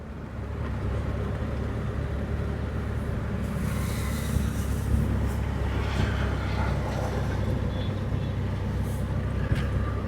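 A 2012 Hyundai i20 being driven, heard as a steady low engine and road rumble from inside the car, continuous and fairly loud throughout with faint higher rattles.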